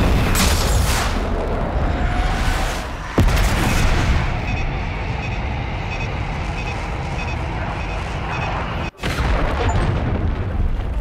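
Bomb explosions from an airstrike in Call of Duty: Black Ops 6, with loud continuous booming and rumbling blasts, a sharp hit partway through and a brief dropout near the end.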